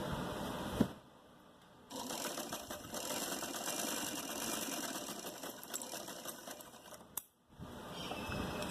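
A sewing machine runs a long, steady stitch of about five seconds through salwar fabric, making a dense mechanical whir. A brief start comes first, and a short pause breaks the run near the end.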